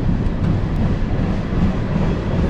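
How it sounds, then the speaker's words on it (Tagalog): A long train rolls past near Barnet Marine Park in Burnaby, a continuous loud rumble with a steady low roar and no voices over it. "Mahabang train"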